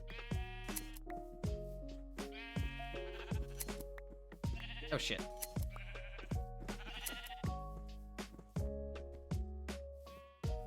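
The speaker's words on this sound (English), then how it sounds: "Why am I shearing the sheep?" Sheep bleat repeatedly in Minecraft during shearing, a series of clear, close, wavering baas in quick succession, overlapping with game sound effects, while a man briefly swears.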